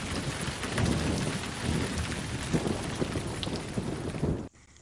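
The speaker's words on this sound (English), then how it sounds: "So that was the rain effect." A rain sound effect from a video editing app plays as a loud, dense downpour with rumbling thunder, a continuous wash of noise that cuts off abruptly just before the end.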